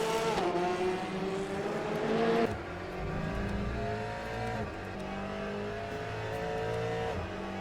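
Aston Martin race car engine in the Le Mans Ultimate racing game, a sustained loud roar that climbs in pitch through the revs, drops with each gear change and climbs again, with other cars audible around it.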